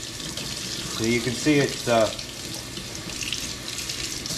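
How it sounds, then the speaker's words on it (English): Warm faucet water runs steadily into a sink, rinsing a ductless mini split filter screen, with a constant close splashing hiss while someone briefly speaks over it. "I'm just gonna use the faucet here, I'm gonna put it on warm, and we're just gonna rinse that off"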